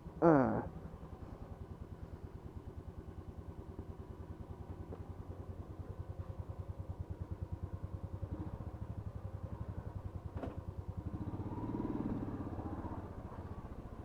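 A motorcycle, taken out for its first ride of the year, idles with a steady, even engine throb close by, after a brief louder burst at the start and a slight swell near the end.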